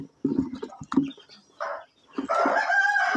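Chickens and chicks clucking and calling close by in short bursts, with a louder rooster-like crow rising near the end.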